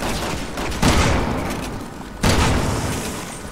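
Two loud gunshots from a firearm in the video game Resident Evil 6, fired about a second and a half apart, each a sharp booming blast with a short decaying tail.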